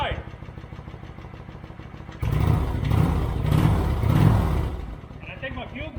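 A Kawasaki Vulcan 900 motorcycle engine, started for the first time in eight years, rumbles loudly for a few seconds after a quiet stretch, then drops away as a voice comes in.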